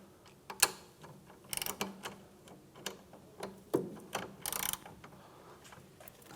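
Ratchet wrench working loose the 14mm caliper guide pin bolts on a Hyundai Elantra's rear brake, giving bursts of quick metallic clicks with short pauses between them, close and fairly quiet.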